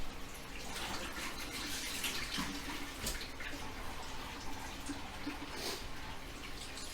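Water drains steadily from a Panda portable washing machine in a tiny house, a continuous close splashing, running flow with no talk over it.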